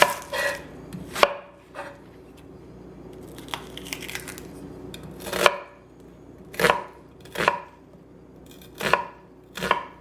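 Garlic chopped with a knife on a cutting board while making homemade lasagna, a series of sharp, close, crisp thwacks spaced irregularly with short pauses between strokes, alone without talk.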